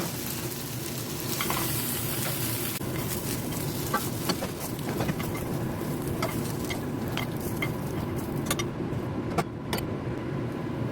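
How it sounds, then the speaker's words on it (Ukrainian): Potatoes frying in a pan for a vegetable and meat stew, a steady dense sizzle with faint crackles and occasional clicks running throughout, close and unbroken, no talking. "Картоплю трошки підсмажила, щоб засмажка ця дала трошки смак."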